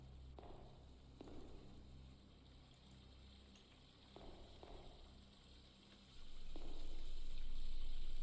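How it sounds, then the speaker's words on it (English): Running water in a horror video game, a faint continuous trickling wash with a few small splashes that swells into a louder steady gush near the end, heard alone with no talk. "I hear water."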